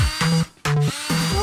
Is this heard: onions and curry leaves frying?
no